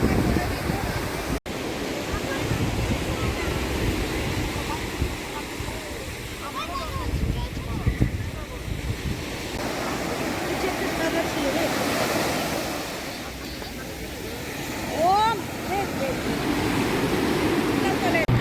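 Ocean surf rolls continuously at Swargadwar beach in Puri, a steady broadband wash with wind buffeting the microphone, while voices talk over it in the foreground throughout.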